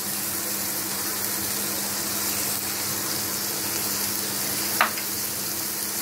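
A paste of mint leaves, raw garlic and green chilies fries in a pan, a continuous close sizzle with a faint steady hum beneath and one brief clink near the end.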